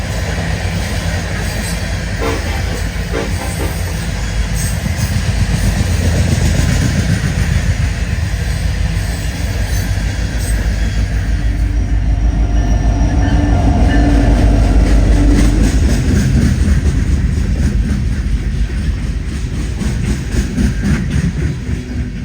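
A CSX freight train led by a single SD70ACE locomotive creeps past on track, with a loud, continuous rumble of wheels and railcars and rhythmic clatter that swells toward the middle and persists.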